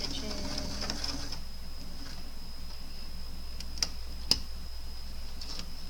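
A sewing machine backstitches seams on a lacy top, a steady mechanical hum with a thin high whine and occasional sharp clicks, close by and fairly even throughout.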